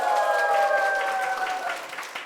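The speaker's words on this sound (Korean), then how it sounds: "박수 한번 주세요" Applause from a lecture audience at a televised talk, a steady wash of clapping that stays fairly loud and even for a couple of seconds, with a faint sustained tone running underneath.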